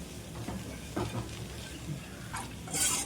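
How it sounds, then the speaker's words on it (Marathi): Rice flour batter is stirred in a pan for a traditional Konkan festival recipe, giving soft, faint scraping and swishing strokes at close range with a brief metallic clink near the end. "ढवळत राहायचं पीठ कारण ते खाली बसतं ना तांदळाचं पीठ आहे ते"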